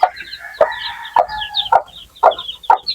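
Hens cluck in a run of short, loud, closely spaced calls with a rooster-like tone, a sweater gold breed among the birds kept for hatching eggs on a Filipino backyard farm.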